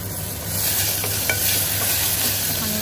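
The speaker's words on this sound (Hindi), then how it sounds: "आनी आतां मातशें फ्राय करपाचें सगळें." Green chili and tomato fry in a pan with a constant close sizzle, while a spoon stirs and scrapes now and then through the hiss.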